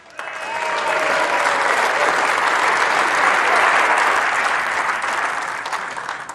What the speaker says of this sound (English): can you please give a round of applause for our presentation party